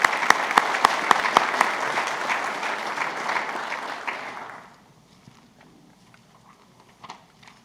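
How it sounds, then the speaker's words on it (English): An audience at a law-enforcement awards ceremony applauds in a full round with some sharp individual claps, then fades out over a few seconds to near silence with scattered claps. "Let's give them another round of applause."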